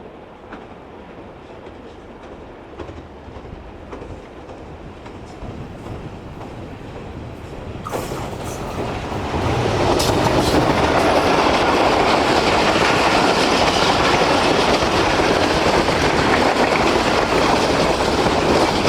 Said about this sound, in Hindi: 2 घंटे वेट किया है इस ट्रेन का और 10 सेकंड लगे ट्रेन को पास होने में।